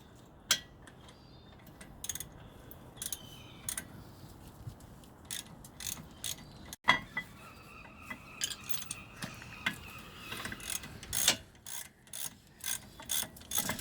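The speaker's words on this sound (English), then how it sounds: "Cracking off the tension from those nuts. Yeah, that bolt is coming off nicely." Wrench loosening the caliper nuts and bolts on a Seat Leon Cupra R with Brembo brakes, giving a run of close, sharp ratcheting clicks and metallic creaks, spread irregularly with one loud knock midway and no talking.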